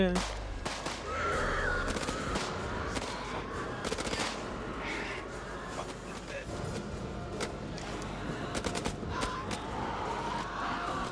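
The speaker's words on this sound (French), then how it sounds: "il y avait un truc avec des petits corbeaux là aussi là" Crows caw amid gunfire in the horror video game House of Ashes, scattered harsh calls mixed with bursts of shots and engine noise, while a person talks over the game sounds.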